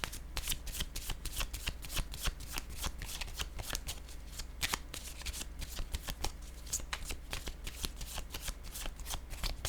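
Cards are shuffled and handled continuously for a card reading, a steady rapid riffling and flicking close by at a soft level over a low hum.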